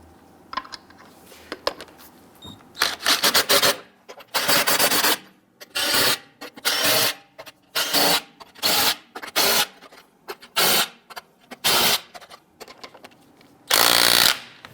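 Front wheel lug nuts on a Jeep Grand Cherokee are snugged down in a series of about ten short, loud, rasping power-tool bursts, each roughly a second long, separated by brief quiet gaps.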